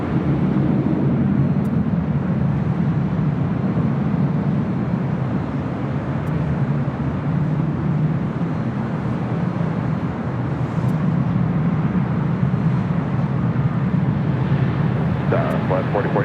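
Steady, loud jet aircraft rumble at LAX airport, a broad continuous roar from taxiing or idling planes with no clear pauses, heard alone without talk.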